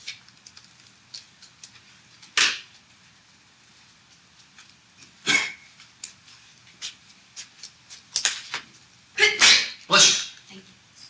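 A single sharp sneeze in a quiet lecture hall, followed by a few more loud sneezes and sniffs later, with soft rustling and writing noises between them.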